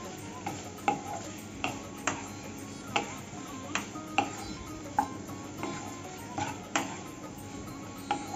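Boiled taro stolons (loti) are stir-fried in a pan, a spatula scraping and tapping the pan in irregular clicks over a faint sizzle, quiet and close.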